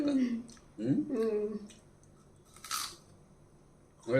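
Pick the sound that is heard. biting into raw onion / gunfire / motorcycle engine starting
biting into raw onion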